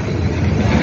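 A train at Patnera railway station gives off a loud, continuous rumbling roar with no pauses.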